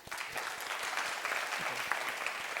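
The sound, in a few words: audience applause at a workshop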